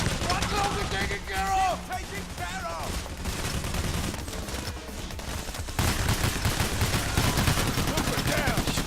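Rapid bursts of gunfire in the video game Payday: The Heist crackle through the clip, growing denser toward the end, while people talk over the shooting.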